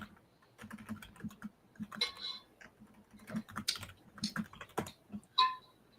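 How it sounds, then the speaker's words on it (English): Someone types on a computer keyboard in uneven bursts of close, crisp key clicks with short pauses between runs. "Sure, sorry. Typing a thing."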